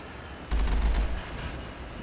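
The Mako tank's cannon in Mass Effect 1 fires a single heavy, booming shot, with a deep low thump and a short rumbling tail against steady game background noise.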